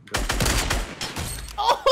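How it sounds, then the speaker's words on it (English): A rapid burst of gunshots hits a wall in a video game, loud close cracks in quick succession, followed by a brief voice near the end. "I'm about to shoot the wall."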